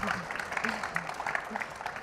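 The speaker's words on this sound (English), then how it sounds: "let's give them a very big applause" An audience claps for small business owners on stage, a brief, moderately dense applause. Voices are audible among the clapping.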